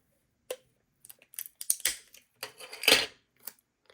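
Single-sided adhesive tape is pulled and stuck down to secure small bags over brushes, giving sharp crackling rips and taps in irregular bursts, close and alone.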